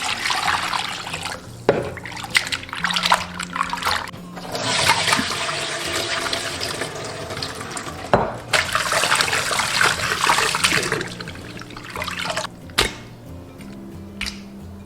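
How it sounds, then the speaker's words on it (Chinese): Crucian carp being rinsed in clean water after a salt rub, with running and splashing water swirling steadily and close for most of the stretch, broken by a few short pauses, no talk. "加入清水给它淘洗干净。"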